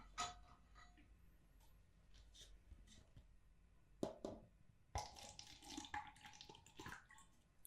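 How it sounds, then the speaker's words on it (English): Water is poured from a container into a plastic cup in a quiet indoor setting, soft trickling and splashing in short bursts with small clinks, close and gentle. "I'll pour some water into it so that you can see."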